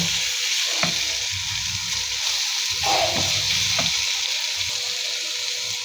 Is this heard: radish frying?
yes